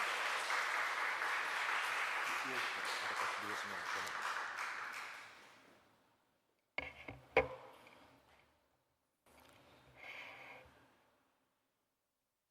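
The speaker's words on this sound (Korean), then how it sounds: "우리 나오실 때 우리 박수로 환영하도록 하겠습니다" A church congregation at a Wednesday service claps to welcome a missionary from Tanzania to the pulpit, a dense burst that fades out after about six seconds, followed by a few scattered knocks and shuffles.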